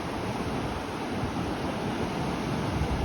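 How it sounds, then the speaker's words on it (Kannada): A swollen river rushing hard after forest rain at Amboli ghat, a dense, loud, continuous roar of water with a breathy, wind-like texture and no voices. "ಕಾಣಿಸ್ತಿದೆಲ್ಲ ಎಷ್ಟು ಜೋರಾಗಿ ಬರ್ತಿದೆ ಅಂತ ನೀರು"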